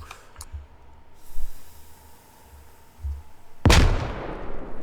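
A frag grenade explodes in a military shooter game: after a low, quiet rumble, a single loud, close blast erupts near the end and trails off into a long, noisy decay.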